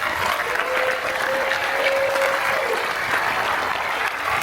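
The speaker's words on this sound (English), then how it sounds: "Let's give them a big round of applause." A cruise ship theater audience applauds the stage production manager and prop master, a dense, steady wash of clapping that stays loud throughout, with a faint sustained tone briefly running beneath it.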